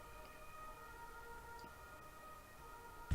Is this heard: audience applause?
no